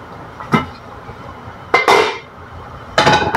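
A lid is set onto a cooking pot of potatoes, giving three sharp metallic clanks spaced about a second apart. Each clank is close and loud, with quiet kitchen background between them.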